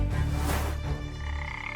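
A frog hunting crickets in a pet enclosure lets out a rough, buzzing croak that swells and trails off over a couple of seconds, close and fairly loud with no voices.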